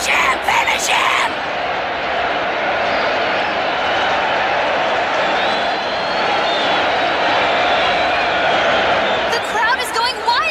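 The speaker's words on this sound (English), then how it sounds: "The crowd is going wild here, and rightly so." A Dark Tournament crowd in an anime arena cheers wildly, a loud continuous roar of yelling and whooping that swells throughout, with brief sharper bursts of noise at the start and end.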